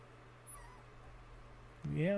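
A small puppy whimpers in short, high, wavering cries near the end, close by and fairly clear over a low steady background hum.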